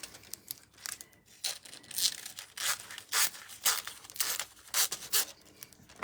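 Large scissors slicing through thin foil in a series of crisp, irregular crinkling snips and tearing rustles, close and fairly quiet, with brief pauses between cuts.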